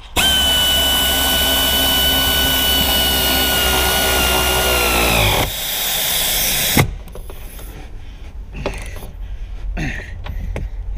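A pneumatic power tool runs loud and continuous for several seconds, fastening the seat bolts in a Dodge Ram truck cab during a back slider glass replacement. It stops with a sharp clack, then quieter shop sounds follow.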